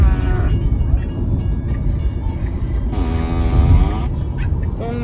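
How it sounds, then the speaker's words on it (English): A car horn sounding in long, honking tones inside and around a newly bought car, with a steady rumble of traffic or a running engine beneath and voices talking over parts of it. "That's literally the horn of the car."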